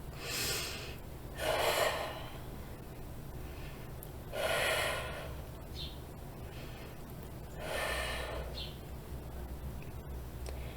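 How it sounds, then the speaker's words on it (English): A person takes three slow, deep breaths during a meditation, each a long, close, airy inhale-exhale spaced a few seconds apart, with quiet pauses between them. "Take 3 deep breaths."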